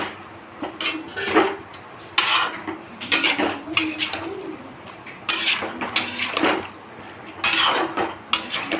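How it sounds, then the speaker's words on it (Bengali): A spoon scrapes and clinks against a pan as tomato chutney with salt and turmeric is stirred, giving a series of irregular metallic scraping strokes, close and moderately loud, with no talking. "এটাকে আবার একটু নেড়ে চেড়ে নেবো"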